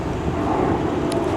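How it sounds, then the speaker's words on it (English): A large airplane flies over a shopping mall in New Jersey, a loud steady roar filling the clip, heard from below outdoors. "The big plane over the mall."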